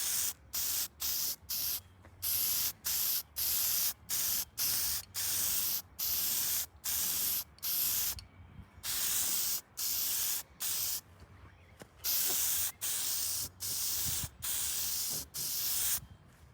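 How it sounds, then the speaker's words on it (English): Black aerosol spray paint is hissed onto a car's wiper arms in short, evenly spaced bursts, about fifteen bright close-up sprays separated by brief pauses, with two slightly longer blasts near the end. "makes it look a little better if you just spray some black paint on them"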